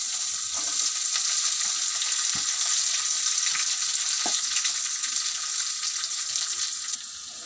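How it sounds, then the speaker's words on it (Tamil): Broad beans frying in hot oil with mustard seeds and dried red chillies for a South Indian poriyal, a steady, dense sizzle throughout with a few faint clicks, close and continuous, dropping slightly at the end. "இது சூடானோன்னு நம்ம இப்போது அவரைக்காவை போட போகிறோம்."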